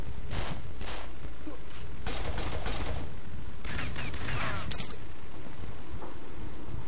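Gunfire in the online shooter Red Crucible 2, with scattered bursts and single shots at moderate distance amid constant game noise and brief sharp mechanical clicks.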